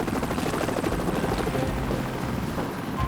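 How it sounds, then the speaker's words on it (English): A rescue helicopter on an air rescue mission flies close by, its rotors beating in a loud, steady thrum that holds strong throughout with no voices over it. "They've got Dale into the helicopter just in time"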